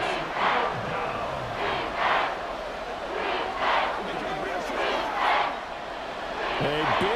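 A stadium crowd in NFL 24 on Xbox Series S during a Panthers versus Falcons game, a continuous roar that swells in rhythmic waves roughly every second and a half, heard under a play-by-play commentator's voice.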